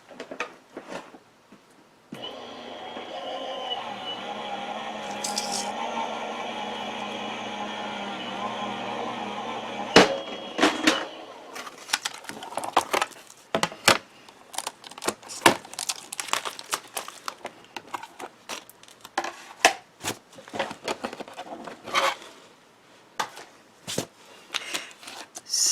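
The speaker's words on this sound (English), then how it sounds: "And then I'm going to run it through my die cut machine." Paper being run through a die cut machine makes a steady mechanical whir and crinkle at first, then gives way to scattered close crinkles, taps and rustles of handling, with no talking.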